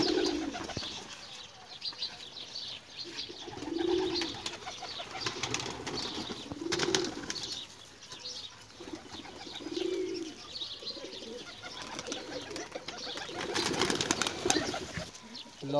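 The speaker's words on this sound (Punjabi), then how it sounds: "ਕਬੂਤਰ ਮੈਂ ਸਾਰੇ ਕੱਢਦਾ ਬਾਹਰ" Pigeons coo on a rooftop loft, deep rolling coos repeating every few seconds, mixed with scattered chirps and bursts of flapping wings close by.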